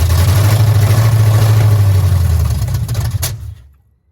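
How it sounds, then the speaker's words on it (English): An old Chevrolet C10 engine runs with a loud, steady low rumble and then sputters and spits back through the carburetor before cutting out near the end. "Spit back through the carburetor that time."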